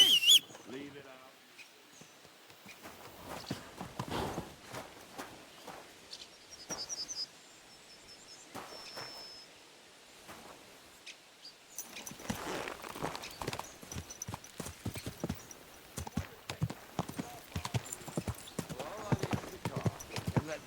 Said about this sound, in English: The horses drag you the rest of the way.